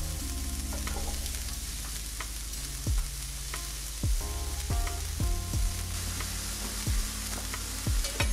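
Onions frying in olive oil on a griddle give a steady, close sizzle, broken by repeated sharp scrapes and taps of a spatula against the hot metal surface.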